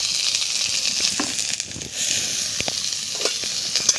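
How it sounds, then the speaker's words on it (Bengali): Chopped onion fries in hot oil in a wok, making a loud, continuous sizzling hiss with occasional crackles and the faint scrape of stirring. "পেঁয়াজটা আমি হালকা করে ভেজে নেব।"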